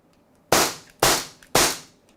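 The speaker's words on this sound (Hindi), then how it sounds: "तो आपने देखा किस प्रकार से इसने फायरिंग किया है" A Beretta Mod 84 FS CO2 blowback BB air pistol firing three sharp, loud shots in quick, even succession about half a second apart, each a crisp snap with a short decaying tail, close and without talk.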